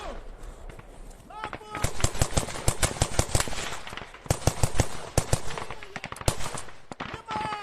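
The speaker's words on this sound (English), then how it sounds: "But the firefight is going insane right now." Heavy gunfire crackles through a firefight in the Ukraine war, with dense rapid bursts and scattered single shots, some close and sharp, others more distant, while voices shout intermittently underneath.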